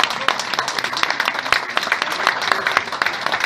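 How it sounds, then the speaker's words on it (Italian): Dinner-event audience applauding for Giannangelo, a busy patter of many hands clapping at close range, steady and moderately loud, with faint voices mixed underneath. "Io direi fare un grande applauso a Giannangelo"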